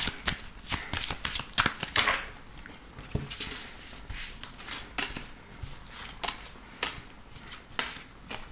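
Tarot cards being shuffled by hand, repeated quick riffling and slapping bursts with short pauses between, close and crisp, no talking.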